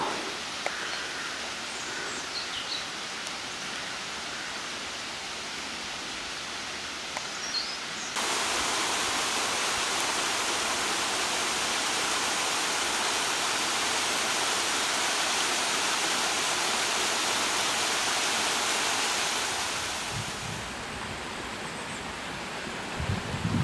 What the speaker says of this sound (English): there's a nice little waterfall off to our right